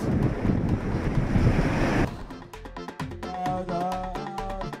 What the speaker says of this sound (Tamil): கடலில் 10 மீட்டர் உயரத்திற்கு அலை எழும்பி சீற்றமாக காணப்படுகிறது